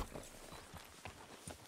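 Horse hooves clip-clopping in the video game Red Dead Redemption 2, a quiet, steady walking rhythm of soft hoof thuds in a faint, continuous ambience.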